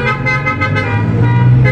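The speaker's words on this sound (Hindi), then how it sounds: "अभी हॉर्न स्टार्ट हो गए" Car horns honking loudly and continuously, several horns overlapping in a sustained blare at close range from a small wedding procession of about five cars in Germany.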